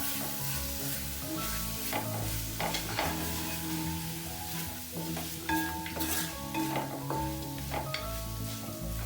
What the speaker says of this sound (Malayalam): ഇത് നമ്മൾ നല്ലൊന്ന് ഇളക്കി കൊടുക്കാം.